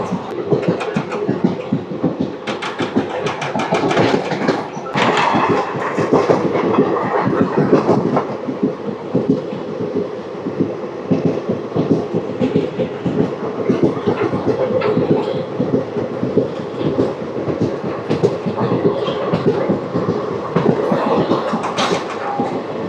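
The Puri Tirupati Express rolls along at speed, a steady broadband rumble of wheels on rail with rhythmic clickety-clack and rattling carriages, heard close and continuous from onboard with no speech.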